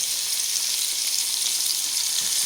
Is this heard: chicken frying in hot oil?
yes